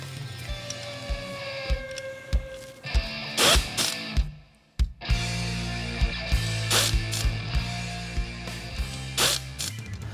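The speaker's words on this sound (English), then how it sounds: "Next step is to tighten all the bolts and check for clearance." Bolts on a Cushman scooter centrifugal clutch are tightened by hand, giving close, sparse metallic clicks and ratcheting ticks over a low steady hum.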